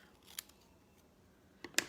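Scissors snip paper during a craft session, two brief, faint crisp cuts set apart in a quiet room.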